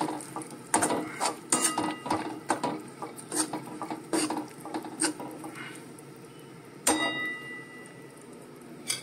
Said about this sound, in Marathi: आणि आता हे आपण खोबरं आणि हे मिक्स करून घेणार आहोत।